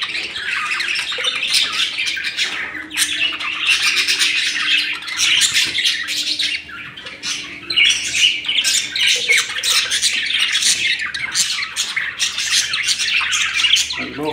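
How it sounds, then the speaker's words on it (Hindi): A flock of pet budgerigars squawks and chirps continuously, with dense overlapping calls that are loud and close and carry on without pause. "बहुत ही प्यारा पक्षी है।"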